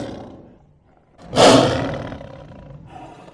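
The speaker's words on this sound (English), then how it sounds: "Tiger." A tiger roars once, a loud, close, rough bellow that bursts in suddenly and then fades away, with a brief quieter rumble before it.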